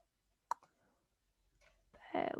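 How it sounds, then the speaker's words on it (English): A computer mouse button clicked once, a sharp close tick, followed by faint quiet and a brief muffled voice at the end. "So if I just click here"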